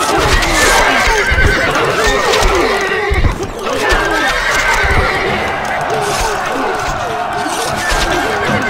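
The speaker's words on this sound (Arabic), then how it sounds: "خيولنا جاهزة" Horses neigh and whinny over galloping hooves in the strategy game Stronghold Crusader, set amid loud, busy battle noise with a voice talking over the action.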